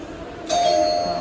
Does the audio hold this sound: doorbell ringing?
yes